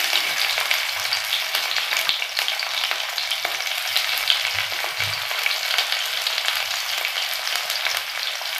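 Garlic sizzling in hot oil on medium flame with mustard seeds and cumin: a dense, even, crackling fry with small pops, close and steady throughout, no voices.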